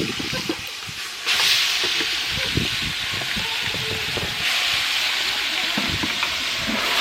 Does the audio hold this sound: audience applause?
no